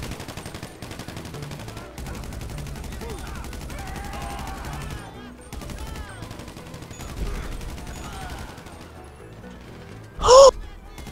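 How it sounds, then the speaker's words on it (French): Repeated bursts of automatic gunfire in the online multiplayer game GTA Online, rapid rattling volleys running loud through most of the stretch, with a sharp louder blast near the end. "Il m'a fait une belle rafale"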